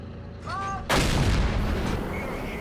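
A tank gun fires once in the World of Tanks game, a single loud booming blast that follows a brief whine and then decays into a long rumbling tail.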